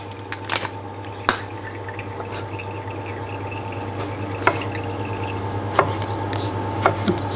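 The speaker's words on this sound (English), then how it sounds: "this tomato we need to slice first" A knife slices a tomato on a cutting board, making a series of irregular, fairly close chops and taps over a steady low background hum while preparing a spicy Thai salsa.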